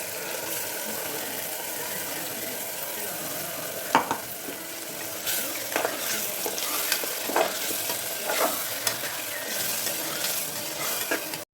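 Spinach paste and tomato frying in a pan, a steady sizzle broken by repeated stirring scrapes of a spoon against the metal, close and continuous with no talking.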